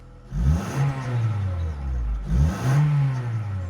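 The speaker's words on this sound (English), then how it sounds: "this is what a normal Honda Jazz should sound like." A stock Honda Jazz engine revs up twice from idle, each rev rising and falling back, close by with no other sounds.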